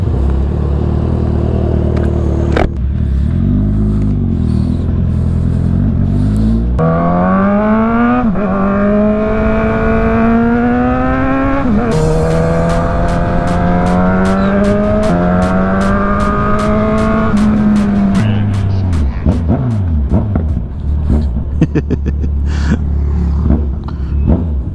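A 2023 Yamaha R1M sport motorcycle revs loudly and close by, with no one speaking. The engine pitch climbs and falls in repeated rises, and sharp rapid pops and crackles come from the exhaust midway through.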